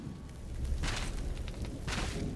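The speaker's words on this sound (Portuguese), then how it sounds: "Nossa, pegou fogo na. Na parada aqui, mano." Fire bursts into flames in the horror video game The Evil Within on PS4, a broad roaring whoosh with two louder surges over steady rumbling game noise.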